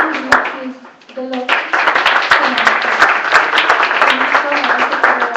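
An audience at a 2014 political meeting to pick a candidate for governor of Veneto breaks into applause, sharp close hand claps thickening into a steady round, while voices carry on underneath.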